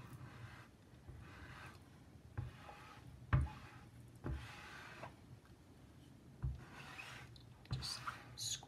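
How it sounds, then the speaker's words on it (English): A squeegee spreads material across a wooden quote board in repeated rubbing strokes. The scraping swells and fades in a rough rhythm, quiet and close, with a few sharper knocks and no talk. "keep squeegeeing until I get it all the way across"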